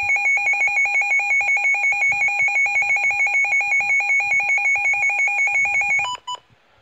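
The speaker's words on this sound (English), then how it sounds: "this is to test the tone on this one" Loud, steady alert tone from a Midland WR-100 weather radio, a continuous bright pulsing warble sounding alone for about six seconds before cutting off with a couple of short blips.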